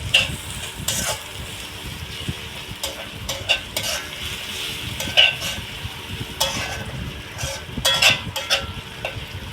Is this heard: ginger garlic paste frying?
yes